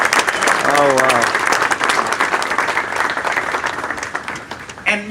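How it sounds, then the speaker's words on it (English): Applause for city staff at a mayor's reelection speech in Long Beach: a dense, loud burst of clapping from a crowd, with a voice speaking over it early on before the clapping thins out toward the end. "Give them a round of applause"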